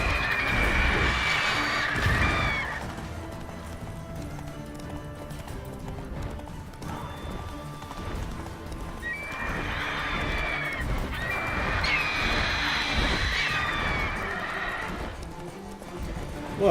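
Roach, a horse in The Witcher 3, clip-clops steadily at a quick gait with two clear whinnies over the hoofbeats, all set against a continuous game soundscape.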